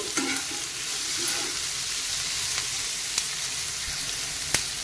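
Green chilies with onion fry in a pan with a soft, steady sizzle. A few light stirring scrapes come early, and sharp ticks and pops follow later. The sound is close and fairly quiet, with no talking.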